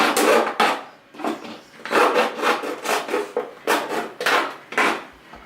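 Close, rough sawing strokes through wood in an uneven rhythm, with short pauses between bursts and no talking.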